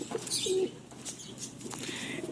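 A Madras pigeon, one of several fancy pigeons kept for sale, gives a short low coo followed by brief wing flaps and light rustling, close by, with no voices.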